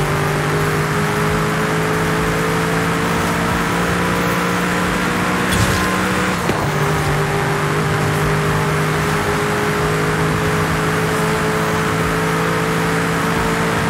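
A 2010 Noble M400 sports car with a six-speed gearbox runs loudly and up close, its engine holding a steady droning whir, with one short transient midway and no speech.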